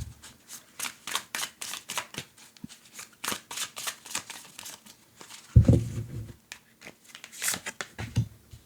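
Tarot cards being shuffled close up: quick papery riffles and soft flicks in uneven bursts, with one heavier thump of the deck partway through, and no talking.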